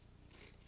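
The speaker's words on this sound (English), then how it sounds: "I had a piece of card like this one, and I just cut" Scissors cutting through a piece of card for a frog craft, one brief close snip with a crisp rasping slice.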